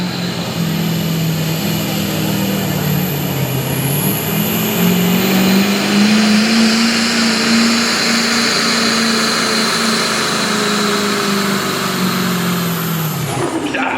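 A Duramax diesel pickup truck roars under load during a truck and tractor pull, its engine pitch climbing slowly and holding loud and sustained for several seconds before cutting off abruptly near the end.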